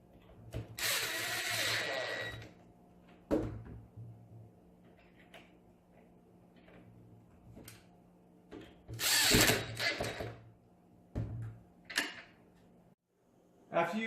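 Power drill driving a screw into table parts during assembly, with two loud bursts of whirring separated by clicks and handling knocks.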